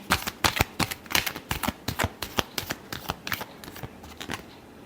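Tarot cards being shuffled by hand close up, a rapid run of crisp riffling flicks in quick bursts that thin out toward the end, with no one speaking.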